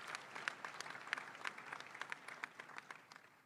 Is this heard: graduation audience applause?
yes